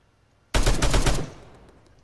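A loud burst of rapid automatic gunfire in a video game rattles for under a second, then fades into a short echoing tail, with no voices over it.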